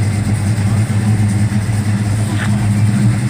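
A big Ford LTD car rolls past at a car show, a steady low engine rumble close by with a brief swell as it goes, no talk over it.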